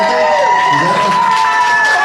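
A live podcast comedy audience at Drygate whoops and cheers in a loud, dense crowd roar. Scattered voices shout over it throughout the short burst.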